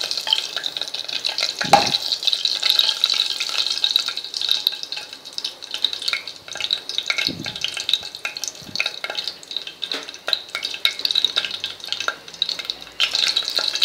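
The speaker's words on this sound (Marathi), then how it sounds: "आता आपण याच्यात जिरे घालूया. जिरे फुलू द्यायचे तेलात." Cumin seeds sizzle in hot oil with a steady, close crackling hiss, dotted with a few soft clinks and stirring knocks.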